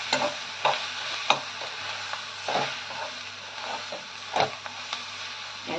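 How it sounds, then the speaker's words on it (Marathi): Spatula stirring a turmeric and garam masala mixture in a pan, repeated scraping strokes every second or so over a low, steady sizzle, with no speech. "परत मिक्स करून व्यवस्थित घ्यायचं आहे सगळं।"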